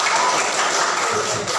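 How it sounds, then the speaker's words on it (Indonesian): Students in a classroom clap for a student group, a brief dense burst of many hands applauding, loud and close. "Sebelum itu kita kasih tepuk tangan untuk kelompok kita."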